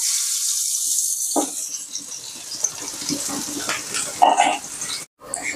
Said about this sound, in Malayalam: എണ്ണ ചൂടായി വന്നിട്ടുണ്ട് ഇനി നമുക്ക് ഇതിലേക്ക് നമ്മളെ കുനുകുന അരിഞ്ഞ സവാള ചേർത്ത് കൊടുക്കാം